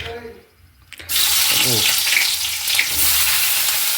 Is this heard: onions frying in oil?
yes